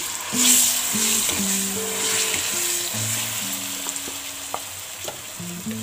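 Tempering spices with dried red chillies sizzle and crackle steadily in hot oil while a red chilli chutney is cooked, with a few stirring scrapes over a soft background hum and no talk.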